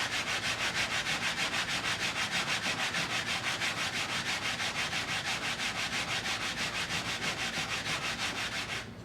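Steady, continuous rubbing of a shell inlay set in wood against a hard sanding block, sanded without wrapped paper; an even back-and-forth scrape fills the whole stretch up close and loud, with no talk.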